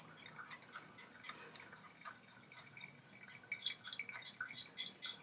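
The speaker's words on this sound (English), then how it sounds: "Gonna get that in there with our whisk." A whisk taps and clicks quickly and rhythmically against a bowl as it beats a Caesar dressing of lemon, oil and Worcestershire sauce. The clicks are soft and close, with no talk.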